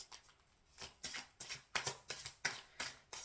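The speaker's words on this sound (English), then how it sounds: "if I just shuffle the deck a little bit after infusing my energy" A deck of tarot cards being shuffled up close, a quick series of about a dozen crisp riffling bursts in an even rhythm, with no voice.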